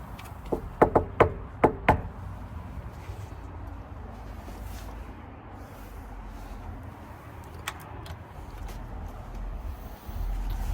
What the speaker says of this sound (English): When you knock enough of these doors, you know the exact rhythm and everything to do.